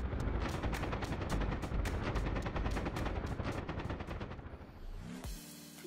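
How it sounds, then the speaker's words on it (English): The UH-1 Huey's minigun in the DCS flight simulator fires in one sustained, rapid roaring burst for about five seconds, loud and close, before cutting off abruptly. "the Huey got a new minigun and sounds"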